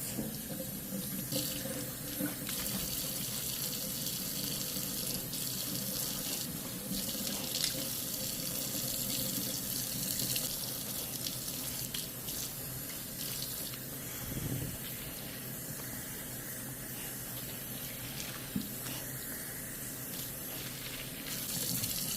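Tap water gushes steadily from a faucet into a sink, soaking a curly wig under the stream, a continuous close rush with small shifts as the hair moves through the flow.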